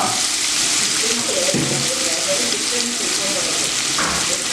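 Onions frying in hot oil for chicken biryani, a steady, dense sizzle filling the whole stretch, close and loud, with faint stirring and background talk underneath.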